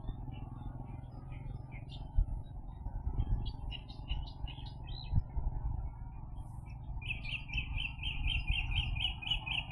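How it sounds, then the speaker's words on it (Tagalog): Birds chirp in the distance over low outdoor rumble in a mangrove, with one bird later trilling a fast, steady run of repeated notes. "Nakakapaganda guys ng mga huni ng ibon dito."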